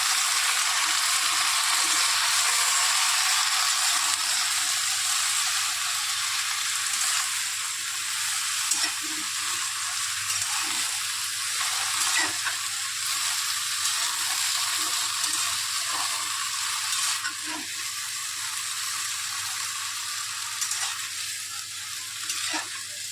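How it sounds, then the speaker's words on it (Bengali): Pumpkin and malabar spinach frying in a pan are stirred, giving a steady bright sizzle with intermittent scraping and clinking of the spoon, close and continuous with no talking. "পুঁই শাকটা দেওয়ার পর সুন্দর করে একটু নাড়াচাড়া করে নিই।"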